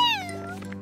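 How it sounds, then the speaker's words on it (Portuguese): A cartoon kitten gives one short, bright, close meow that slides downward in pitch, heard alone with no talking. "Oh, meus gatinhos queridos."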